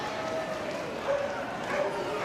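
An amped-up golden retriever named Fire barks in short bursts during an agility run at the Westminster Kennel Club 2025 Masters Agility Championship Finals, partly masked by a commentator talking over the arena.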